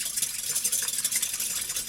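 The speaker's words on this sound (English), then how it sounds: "And just whisk that up, just to get it mixed well." A single egg is whisked briskly in a bowl for Nanaimo bars, giving a steady, quick scratchy swishing and ticking rhythm, close by and without speech.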